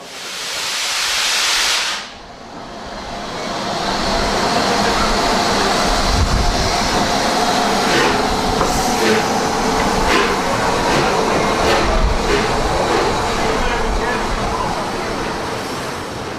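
Steam locomotive Clan Line standing at a station platform, a steady loud roar of escaping steam and hiss that fills the scene after a brief burst at the start, with faint clanks and station ambience.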